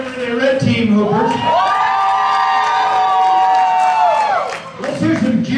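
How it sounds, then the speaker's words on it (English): Loud crowd cheering for the red team at a team-building event, with children shouting and a few claps. A rising, drawn-out group yell swells and holds, then breaks into scattered whoops at the end. "Let's cheer for the red team"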